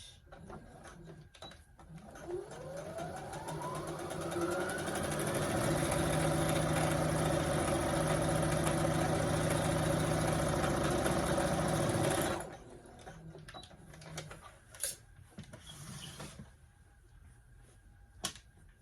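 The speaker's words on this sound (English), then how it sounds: "And you can just sew it down with a straight stitch." A sewing machine runs a straight stitch at a 1/4 inch seam, attaching a pocket piece to a pair of pants, whirring steadily for several seconds before stopping, with softer handling clicks before and after.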